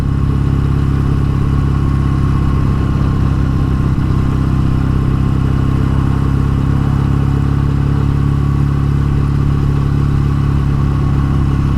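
A BSA A10 Super Rocket motorcycle engine running on a British road with standard pipes, a steady loud mechanical drone with a constant low throb, continuous throughout and no voices.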